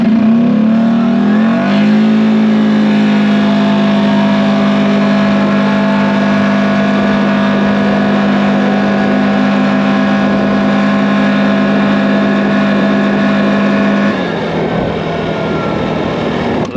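A 450 ATV engine in high four-wheel drive with a CVTECH clutch pulls away, its loud droning pitch climbing and then holding steady for a long stretch before dropping off near the end.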